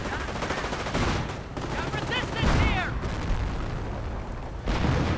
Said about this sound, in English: And artillery going in against a central Stug.